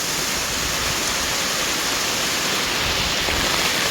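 Steady, loud hiss of heavy rain pouring down without pause, a dense wash of noise with no voices.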